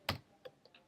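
Computer keyboard keys tap during a paste, one sharp click followed by two or three fainter, quicker clicks, close and isolated in a quiet room.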